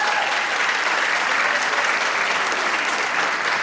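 Loud, steady applause fills the room at the Rahway's Own Rising Stars community awards ceremony, with many hands clapping continuously close by and a few faint voices mixed in.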